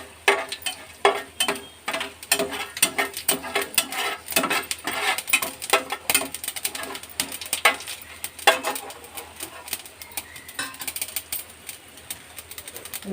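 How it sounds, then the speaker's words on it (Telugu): Tempering spices crackle and pop in hot oil in a pan while a broad bean and tomato curry is cooked, with irregular sharp spits and sputters over a continuous low sizzle throughout. "ఆయిల్ వేడెక్కింది. పోపు దినుసులు వేసుకుంటున్నాను."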